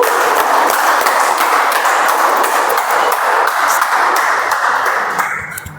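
Toastmasters meeting audience applauding to welcome a speaker, a loud close dense clapping that continues steadily for several seconds before fading out at the end.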